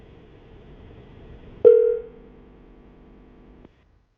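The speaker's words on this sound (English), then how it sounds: "I'm going to call her right now" A telephone call tone sounds when calling out on a phone line: faint line hiss, then a single clear tone that lasts about a third of a second and fades into a low hum before the line cuts off.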